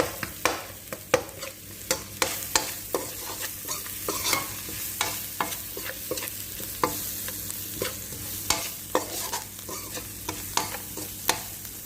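Food frying in a pan with curry powder and red chili while a utensil stirs it, giving repeated sharp scraping clicks at an irregular pace over a steady, soft sizzle close by.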